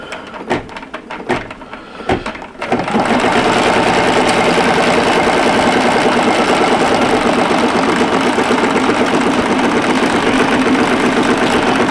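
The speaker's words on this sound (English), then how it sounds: "we're going to see if we can get this to stitch out again just the way it did" An embroidery machine stitches out a quilting block, running as a loud, steady mechanical whir with a fast needle rhythm after a few seconds of brief clicks and knocks at the start.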